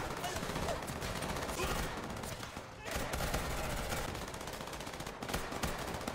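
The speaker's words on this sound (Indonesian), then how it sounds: "baku tembak pun tidak bisa dihindari" Gunfight in Squid Game season 2 as guards block the way to the control room, with dense, continuous automatic gunfire and rapid bursts filling the whole stretch under a loud, busy soundtrack.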